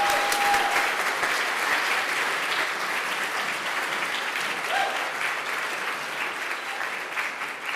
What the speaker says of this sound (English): please support Annie by giving a big round of applause as she arrives on the stage